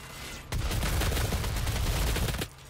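Dense, continuous gunfire from DOOM online multiplayer, a sustained roaring burst of rapid shots lasting about two seconds, loud and close, with quieter game ambience before and after.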